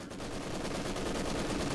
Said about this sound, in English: taking a lot of firepower from this MG42